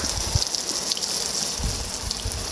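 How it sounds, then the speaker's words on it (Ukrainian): Water gushes steadily onto garden soil being prepared for sowing seeds, a continuous close splashing wash with soft low thuds and no talking. "Ось так добре заливаємо воду, ой, водою землю"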